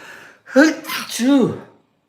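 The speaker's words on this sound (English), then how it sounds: "Excuse me, I'm going to sneeze." A single close, loud sneeze, with a quick gasping inhale before the voiced burst, then silence.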